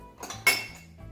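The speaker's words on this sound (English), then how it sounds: "And we're gonna move our frying pan in." A frying pan is slid into place on a kitchen stovetop, giving a quick metallic scrape and a single clink of cookware, close and brief.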